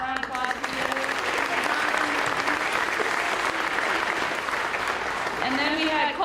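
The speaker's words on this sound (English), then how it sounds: "give him a round of applause for you." An audience at a high school athletic awards ceremony applauds in a dense, steady roar of clapping that holds evenly throughout, with a few voices faintly mixed in.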